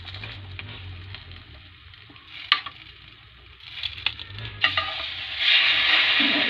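Food frying in a pan while being stirred, with a soft sizzle under scraping, tapping utensil strokes and a few sharp knocks, growing into a louder, brighter sizzle near the end.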